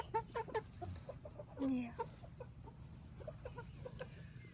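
Free-range backyard chickens cluck softly and intermittently nearby, with one longer squawk in the middle, over quiet outdoor background and a brief spoken word.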